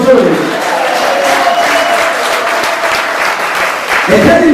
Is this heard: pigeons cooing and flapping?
no